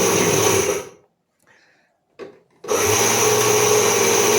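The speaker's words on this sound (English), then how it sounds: "These India-made mixer grinders" An India-made mixer grinder grinds wheat into flour with a loud, steady whirring roar, cuts off to near silence for over a second, gives a brief burst, then starts again and runs steadily and loud.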